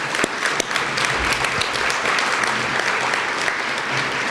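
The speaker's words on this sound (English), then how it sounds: "You talk about a round of applause." Sustained applause from a banquet audience at a business integrity awards dinner, dense steady clapping that fills the room, loud and continuous throughout with no voices over it.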